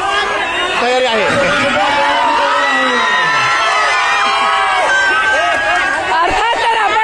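Govinda troupes at a Dahi Handi celebration raise a loud, dense cheer, with whoops, shouts and chatter from a large crowd filling the air nonstop.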